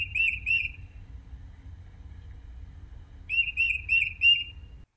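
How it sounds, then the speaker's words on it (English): A thin, high-pitched bird call rings out in two short bursts, the second a quick run of repeated notes, over quiet background. "Just walking and I heard a really high-pitched bird call."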